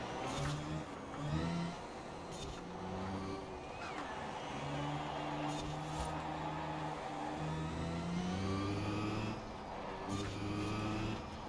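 The electric VW I.D. R Pikes Peak race car accelerates in the Forza Horizon 4 racing game, a steady whining drive tone that climbs and drops repeatedly through corners without pause.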